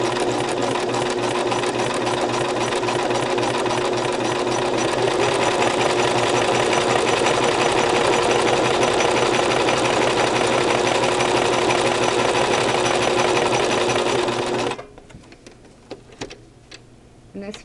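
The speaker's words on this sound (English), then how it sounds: "the first thing I'm doing is sewing the disposable mask material in the curve, and I'm sure the machine will have no problem going through" A Brother LX3014 sewing machine stitches disposable mask material in a curve, a loud continuous rapid mechanical whirring that runs for most of the clip, then stops abruptly into quiet handling noises near the end.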